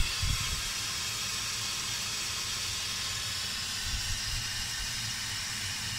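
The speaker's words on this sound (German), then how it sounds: "So, das Abdampfen ist jetzt auch gleich jeden Moment zu Ende." Krups Cook4me+ pressure cooker venting steam after cooking Hungarian goulash, a loud, continuous broadband hiss holding steady through the whole clip with a low rumble underneath.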